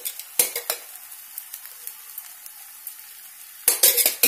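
A semolina dish frying in oil in a pan on a medium stove: a close, steady sizzle, with sharp clinks and scrapes of a utensil against the pan at the start and again at the end.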